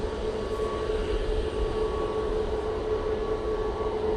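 An airliner departing Manchester Airport for Prague produces a steady, loud engine roar with a constant low rumble and tonal whine, heard continuously without speech.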